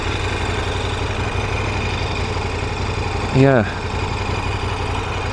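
A KTM 1090 Adventure R motorcycle with twin standard exhausts idles steadily throughout, a low rumbling drone, with a brief spoken word near the end.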